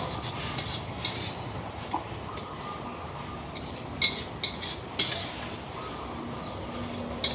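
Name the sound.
stir-frying curry paste in pan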